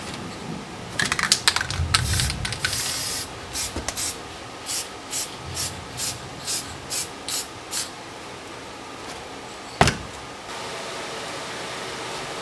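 Permatex sprays from an aerosol can during work on a Willys CJ3B engine. A few loud hissing bursts come first, then a run of short, evenly spaced puffs, and a sharp knock follows near the end.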